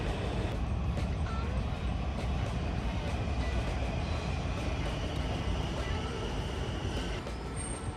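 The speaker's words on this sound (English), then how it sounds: "I was waiting for my Ashburn-bound Silver train." A Washington Metro Silver Line train in the underground Foggy Bottom station: a steady low rumble of the moving train with rolling mechanical noise and faint high squeals, moderately loud and continuous.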